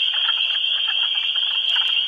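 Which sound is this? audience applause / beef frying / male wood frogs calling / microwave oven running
male wood frogs calling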